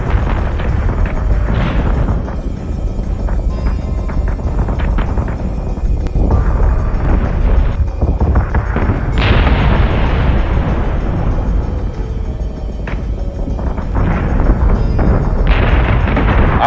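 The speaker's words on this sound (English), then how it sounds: "We're taking sustained fire." Space combat in Battlestar Galactica Deadlock, with heavy booming explosions and weapons fire rolling continuously and loud. Dense rumbling blasts and impacts overlap throughout.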